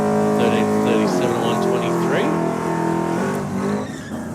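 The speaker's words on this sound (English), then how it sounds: "well, Falcon, nice, strong burnout" A race car does a strong burnout with its tires squealing, a loud sustained engine roar with a shifting, wavering pitch and screeching rubber, close by throughout.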